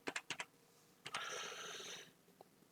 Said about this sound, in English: I just type in search.